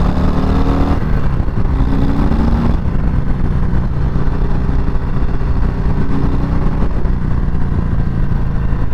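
A 2023 Harley-Davidson Heritage Classic motorcycle engine accelerates under throttle, a loud, close, continuous rumble with a gear change early on.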